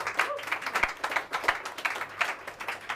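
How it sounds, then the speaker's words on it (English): A small crowd at a live gardening show in Colchester gives a short burst of clapping, with quick uneven hand claps close by for a few seconds. "Let's give him a clap"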